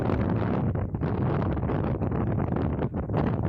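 Strong wind sweeps across open jute fields in rural Pabna, a loud, unbroken roar buffeting the microphone with gusty surges and rustling, no voices.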